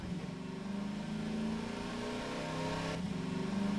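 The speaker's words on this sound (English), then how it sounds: "You can hear how what the engine is working for how relatively slow we're actually moving." Vehicle engine in Half-Life 2 straining and revving hard while moving slowly, a steady mid-pitched drone that rises slightly, heard alone at moderate level.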